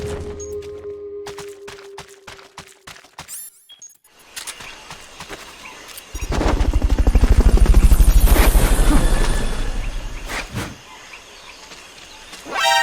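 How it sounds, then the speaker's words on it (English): A Fulton recovery helicopter in the video game Metal Gear Solid Peace Walker arrives with a loud, steady rotor thump that swells for several seconds. Lighter game sounds come before it, and it fades out near the end. "Fulton recovery helicopter is complete."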